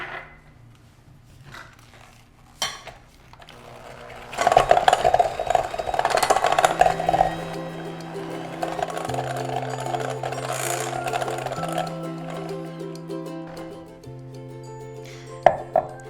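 An egg is beaten into apple cider whoopie pie batter with a mechanical whir and rattling clatter that start a few seconds in, stay steady and shift in pitch as mixing continues.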